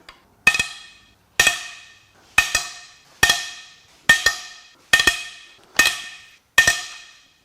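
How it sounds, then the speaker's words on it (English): Eight sharp metallic cracks ring out at a steady rhythm, each a loud snap with a short ringing decay, as T60 head bolts are broken loose on a Ford 1.5L three-cylinder Ecoboost engine during a teardown. "Now it is time to crack the head bolts loose."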